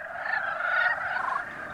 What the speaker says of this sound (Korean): 마을 앞 논, 겨울잠에서 깨어난 산개구리의 합창이 시작됩니다